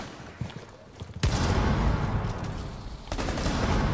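Gunfire bursts in Rainbow Six Siege, a dense volley that starts abruptly partway through and keeps up loudly to the end with a rough, clattering texture.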